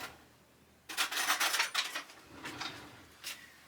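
Spoon scraping solid coconut oil out of a jar while making turmeric golden milk, a few bursts of close, quiet metallic scratching and clinking with no talking.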